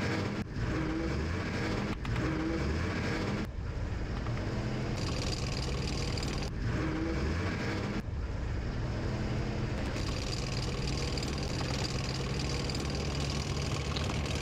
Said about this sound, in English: Yeah, I can hear some motorcycles there.